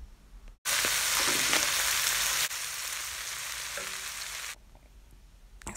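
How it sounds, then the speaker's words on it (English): Green, red and pepper dew peppers hit a hot pan and are stir fried with a loud, steady sizzle that starts abruptly, drops in level midway, then fades to a quieter hiss near the end. "Mix gently and stir fry."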